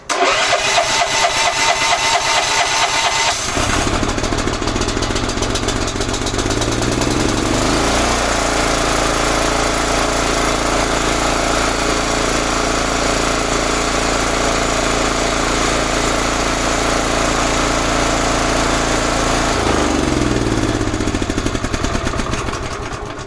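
An 11hp Honda small engine with a replacement carburetor cranks on an electric starter, catches and settles into a loud, steady rumbling idle up close for nearly the whole span.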